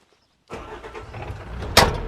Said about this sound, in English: So we're going to fire this up.